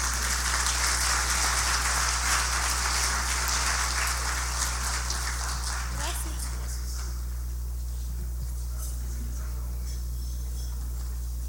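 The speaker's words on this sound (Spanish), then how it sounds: "pedirle a Dios un aplauso por la vida de sus esposos" A church congregation applauds for married couples: a broad, hissing wash of many hands clapping, steady and moderately loud, then thinning and fading away midway, leaving a low hum beneath.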